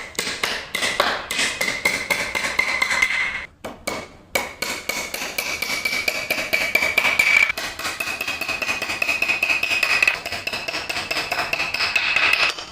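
Hammer blows drive 1.5 inch nails into a joint of 19 mm plywood while building a loft cabinet frame: rapid, loud, sharp strikes in steady bursts, with a brief pause, all without talk.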